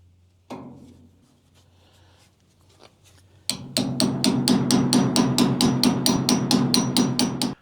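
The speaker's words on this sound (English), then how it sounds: "I've been tapping on this thing for like 15 minutes now" Hammer tapping on a clogged grease zerk fitting with a zerk-clearing tool: a few scattered knocks, then a steady run of quick, sharp metallic taps close by, with no talk.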